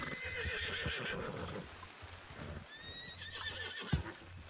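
Horse in the RedM video game, a neigh and snorting with hooves clip-clopping, near and moderately loud, a whinny rising later amid faint rain-like background.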